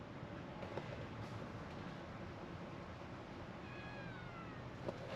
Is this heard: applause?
no